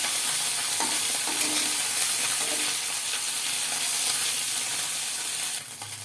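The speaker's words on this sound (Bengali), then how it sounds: "মাছগুলোকে ভেজে নিতে হবে। তো উল্টে পাল্টে লাল লাল করে ভেজে নেব।" Small kachki fish frying in mustard oil over medium heat are turned and stirred, a steady close sizzle broken by scraping and clicking stirring sounds.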